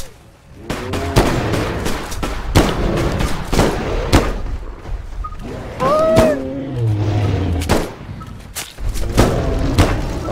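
Gunfire in the video game Bigfoot, set in Yellowstone Park, with several sharp loud shots and thuds scattered across the span, mixed with game ambience and occasional rumbling.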